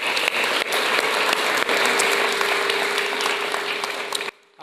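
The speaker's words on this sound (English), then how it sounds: "I want to give him one more round of applause because that was beautiful." Sustained applause from a dinner audience after a film screening, dense and steady for about four seconds before cutting off abruptly.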